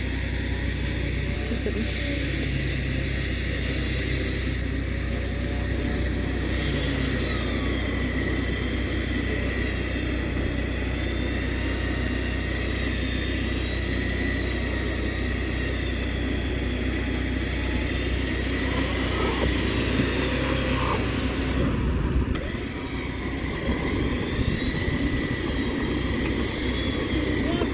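A car engine drones steadily while the vehicle backs up in a desert canyon, a constant mid-pitched hum with slight rises and falls, and a short dip near the end; people speak briefly over it.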